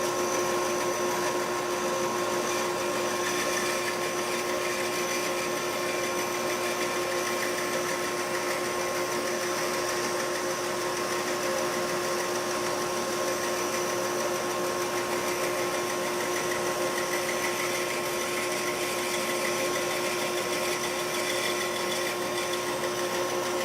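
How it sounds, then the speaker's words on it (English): An Accu-Slice saw cuts a thin 50-thousandths-inch slice of wood, running as a steady, continuous whirring drone with a constant tonal hum throughout, loud and unbroken with no talk. "now we're ready to run this through the saw"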